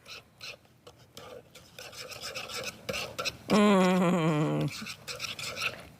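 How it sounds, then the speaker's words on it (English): A metal whisk scrapes and rasps through brownie batter in a pan, a close, continuous scratchy rubbing. A brief harmonic voice-like sound cuts in midway. "I can use a metal whisk in here. And I'm gonna whisk that together."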